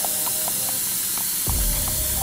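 A paint spray gun laying down single-stage metallic paint on a car panel, a steady close hiss of atomized spray running throughout, with a faint tonal whine and a thump partway through.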